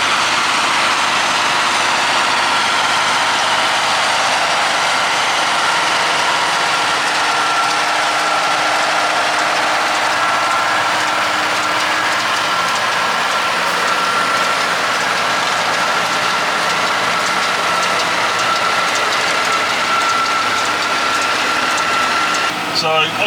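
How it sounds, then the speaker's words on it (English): A John Deere 7530 tractor with its PowerTech engine runs steadily with a forage box, giving a loud continuous mechanical drone and rattling gear noise throughout, with a voice faintly underneath. "so you get that lovely noise from the old power tech there"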